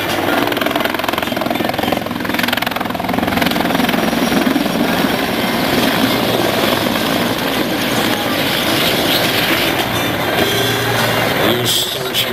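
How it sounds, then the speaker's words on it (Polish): Helicopters fly in a tight circle at the Radom 2007 air show, a loud continuous rotor and engine roar filling the whole stretch with steady intensity and a little wind. "Już są śmigłowce w ciasnym kręgu."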